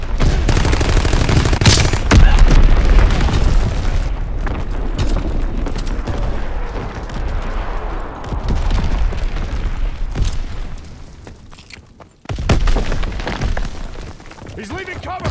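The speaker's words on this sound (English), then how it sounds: "Enemy bomb incoming." Artillery bombs booming in a Call of Duty WW2 team deathmatch, heavy rumbling blasts and gunfire bursts layered over each other, loud and continuous, with in-game voices calling out over the battle.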